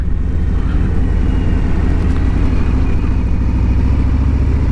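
A 2021 Harley-Davidson Road Glide Special is being ridden at steady, moderate speed, its engine a loud continuous low rumble mixed with wind noise close to the rider.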